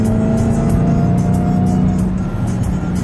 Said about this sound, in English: I just love this supercharger noise